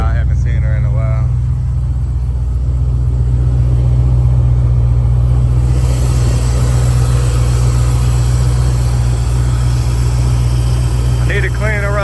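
A 1991 Chevy Caprice with a 455 Olds V8 backed by a Turbo 350 idles warm and steady, a deep continuous engine rumble running throughout, with a brief voice near the start.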